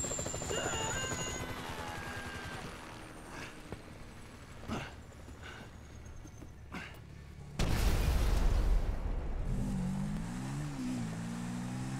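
Grand Theft Auto 5 helicopter with a distant rotor drone under game effects and engine noise, scattered thumps, and a sudden louder blast-like burst near the end.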